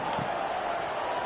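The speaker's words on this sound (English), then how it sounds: "this crowd is buzzing after that last score" Steady, dense stadium crowd buzz fills a college football video game matchup against Tulsa, a continuous wash of massed voices at even loudness with no single standout shout.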